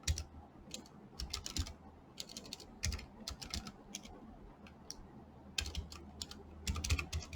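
Computer keyboard typing in quick clustered bursts of sharp key clicks with brief pauses between runs, fairly close and alone, with no voices.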